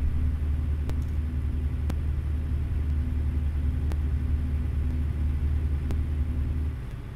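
A Caterpillar C13 engine in a Freightshaker Classic XL truck from American Truck Simulator drones as a steady, low, even rumble, with occasional faint clicks over the constant hum.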